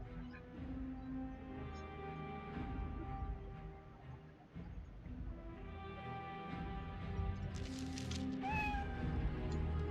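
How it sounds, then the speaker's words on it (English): A stray cat meows repeatedly in the elven alienage of Dragon Age: Origins, its calls layered over steady game ambience and music, with a sharper rising meow near the end. "I heard a cat."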